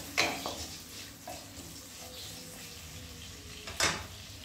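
Chopped garlic stirred in a hot pan for restaurant-style pasta, a soft sizzle with a few sharp scraping clanks of the spoon against the pan at the start and end.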